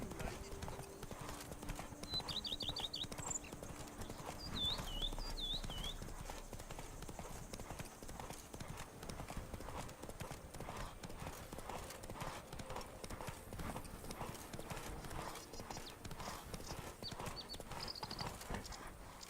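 In a video game, the horse Roach trots and gallops in a rhythmic clip-clop of hooves that carries on throughout, with a few brief whistly calls early on and someone talking over it.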